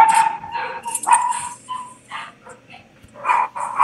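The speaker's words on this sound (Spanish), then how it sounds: "Un saludo al perrito." A dog barks and yips in short, close bursts during an online debate, several sharp barks in an irregular rhythm with no talk over them.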